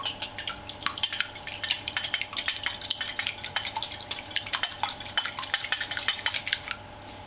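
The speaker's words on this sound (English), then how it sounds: "I'm going to lightly whisk the egg before I can add it to the chocolate and butter" Egg lightly whisked in a bowl, a quick steady run of small clinking taps as the whisk strikes the sides, close and moderately soft, with no talking.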